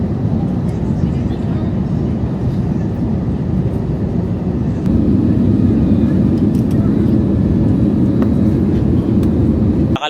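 Airplane cabin noise during boarding and flight, a loud, steady low roar and rumble filling the space throughout, growing slightly stronger midway, close and unbroken.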